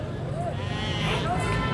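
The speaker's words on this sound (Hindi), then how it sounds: "बकरा आ रहा है चेक करें" A goat at a crowded livestock market in Taxila gives a couple of short bleats over steady crowd chatter and nearby talking.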